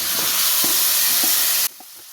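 Ground black pepper and jackfruit seeds fry and get stirred in a hot pan for a Kerala-style dish, making a loud continuous sizzle with a few scraping stirs, then a sudden drop to faint clinks.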